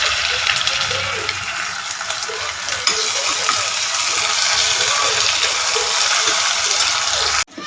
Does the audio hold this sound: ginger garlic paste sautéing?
yes